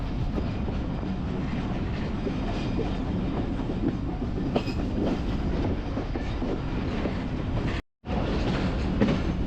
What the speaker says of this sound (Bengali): এখন এই ট্রেন ছেড়ে এখন আমরা যাচ্ছি নেক্সট স্টেশন